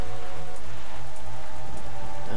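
Steady rain pours down in the video game Zelda: The Wind Waker HD in a dense, constant hiss, with a low rumbling hum underneath.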